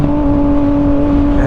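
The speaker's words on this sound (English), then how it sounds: "with open headers, it sounds like it's a track bike or something, like wah!" Yamaha FZ09 (MT09) motorcycle with open headers, a steady loud engine drone with a sustained tonal whine, heard close and alone in cold weather.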